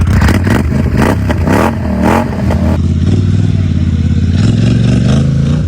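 A 2020 Polaris Scrambler XP 1000 S UTV with a stage 2 tune and RJWC Dual Mud exhaust revs hard in sharp bursts, then settles into a steady, throaty rumble, close up with a raspy exhaust note.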